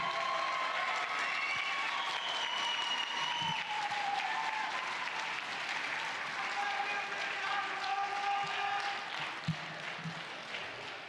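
A long round of applause and cheering for fifth graders at a school graduation ceremony, with crowd voices and whoops mixed into the steady clapping throughout.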